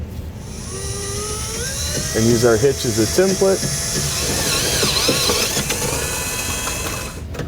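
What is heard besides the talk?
power drill drilling hole in car frame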